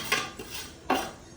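A spoon stirring in a cooking pot, two sharp metallic scrapes and clinks close by, separated by a short pause, with no talk.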